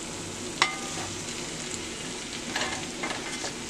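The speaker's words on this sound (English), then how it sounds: "this is our pan fried potatoes" Potato pieces pan-fry in hot oil with a steady crackling sizzle, and a few sharper pops and stirring scrapes rise above it.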